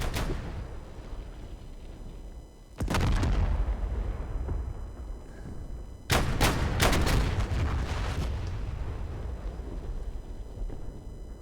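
Sustained battlefield gunfire and heavy artillery booms in the flight combat sim DCS over a busy front, with two loud blasts setting off long stretches of dense, rumbling shots and rattling fire.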